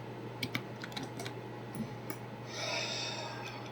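Someone types text on a computer keyboard in a quiet room, giving sparse, faint key clicks with short gaps, over a low steady hum and a soft breathy rush near the end.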